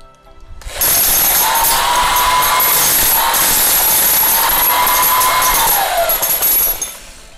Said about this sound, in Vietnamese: Test chức năng đục